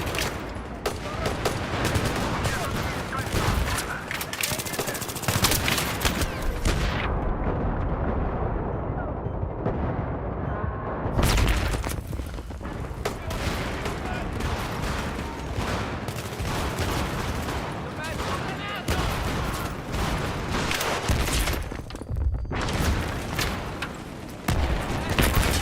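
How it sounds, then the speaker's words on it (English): Dense bursts of gunfire and explosions from the PC game Battlefield 3, loud and continuous, broken by a brief lull before the barrage resumes. "All these fucking explosions."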